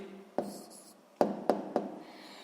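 A pen writes an answer for a sixth-grade math exercise, a few soft scratching strokes with sharp taps as the tip touches the paper, close and quiet with no speech.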